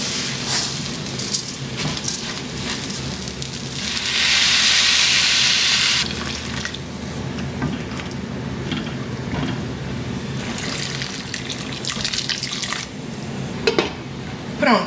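Water runs and splashes into a pot of rice, a steady hiss that swells loudly for a couple of seconds mid-way, with kitchen clatter and handling noises around it.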